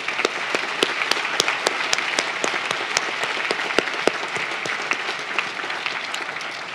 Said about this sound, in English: So let's get a nice round of applause for these awesome people.